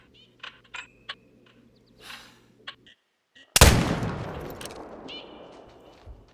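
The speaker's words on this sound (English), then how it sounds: "I'm going to try to do the neck shot." A single loud rifle shot at a large buck in a hunting video game bursts out midway and rings off in a long rumbling echo, preceded by scattered soft clicks and rustles.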